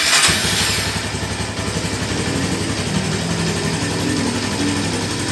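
A 2008 Honda Tiger Revo Special Edition motorcycle fires up with a brief starter burst, then settles into a loud, steady single-cylinder idle, close by and alone.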